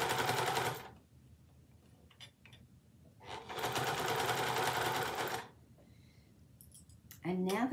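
A sewing machine stitches bunting in two long runs of steady rapid whirring, near and loud, with pauses and small clicks in between.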